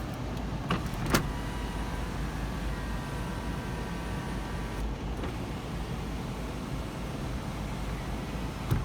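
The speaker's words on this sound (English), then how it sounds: "Show you the rear window here. Hopefully it goes back up." Power rear window of a 2005 Toyota 4Runner running with a steady, even electric motor hum, punctuated by a couple of faint clicks near the start and the end.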